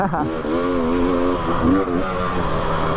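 Engine of a 2020 KTM 300xc dirt bike ridden along a trail, a steady loud revving drone with rising and falling pitch sweeps, close and continuous throughout.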